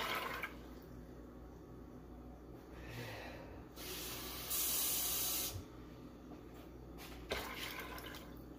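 Water pours steadily into a rice cooker pot, a continuous hissing splash with a brief louder surge midway, close and alone with no talk.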